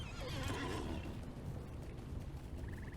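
A horse in the video game Lord of the Rings Online whinnies loudly for about a second, its high wavering cry fading into a steady rumbling background.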